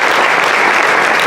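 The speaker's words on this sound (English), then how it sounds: "give these guys a hand clap" Audience at a graduation ceremony applauding former graduates, a loud, dense wash of clapping that holds steady throughout the short burst.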